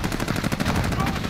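Close, loud rapid gunfire bursts from a sniper rifle in Call of Duty Modern Warfare, overlapping shots in a dense cluster lasting about a second and a half.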